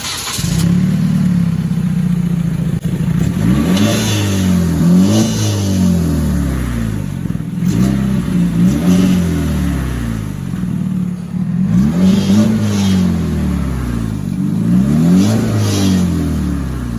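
A stock 2013 Hyundai Genesis 2.0T or 2020 Civic Si engine revs repeatedly in loud, close bursts, each swelling and falling, with a stock exhaust note and no talking.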